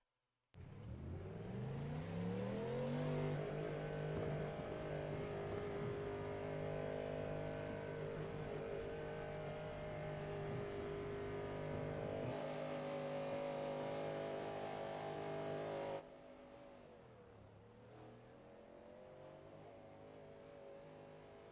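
A Cadillac LMDH prototype race car engine in the iRacing sim at the Daytona endurance race, on an in-lap to the pits, holds a loud, steady high-revving drone. The pitch climbs early, shifts, and then the engine drops to a quieter level near the end.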